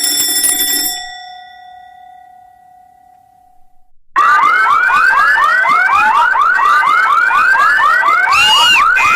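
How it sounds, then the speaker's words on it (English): Fire alarm in a school building rings loudly and continuously for several seconds, a steady harsh ringing that follows a brief electronic tone and a short silence. "It's the fire alarm that goes off."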